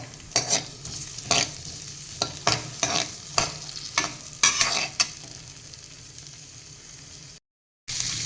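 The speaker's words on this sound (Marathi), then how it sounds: "या हिरव्या मिरच्या आणि कांदा कढीपत्ता घालून आपण हे आधी छान परतून घेऊयात" Green chillies, onion and curry leaves sauté in a pan for a vegetable stew, with a steady sizzle beneath repeated sharp spatula scrapes and stirs, close and clear, and no voices.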